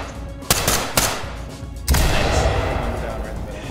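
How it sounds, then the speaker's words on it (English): Gunfire in the tactical shooter Ready or Not: two sharp shots crack close together, then a heavier, louder blast lands and rolls into a sustained, noisy tail. "Where are they shooting us from?"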